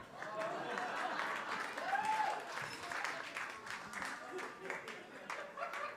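Audience applause on a stage, a modest, fairly faint patter of clapping from a crowd lasting several seconds, with some voices mixed in.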